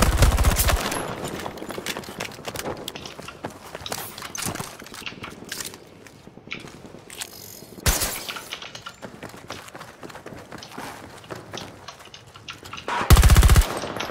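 Bursts of automatic machine-gun fire and single shots ring out in Battlefield 2042, irregular rapid volleys, some loud and close, others distant, with a sharp heavy burst near the end.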